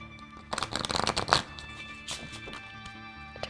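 Tarot cards handled and shuffled close up, a quick burst of riffling followed by softer sliding and tapping as a final card is drawn, with no speech.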